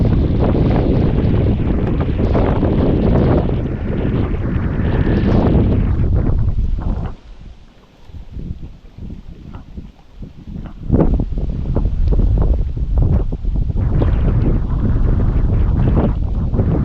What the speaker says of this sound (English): This wind is crazy today.